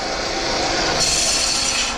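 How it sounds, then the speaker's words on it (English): A drill press bores a shallow hole into a workpiece for a decorative knob or cover, giving a steady, close grinding hiss that brightens and sharpens about halfway through, with no talking. "So I drilled just a little bit."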